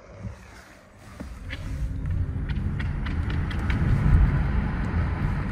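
A Renault R5 electric city car accelerates on the road, a low rumbling roll of tyres and wind that swells steadily louder over a few seconds, with no voices.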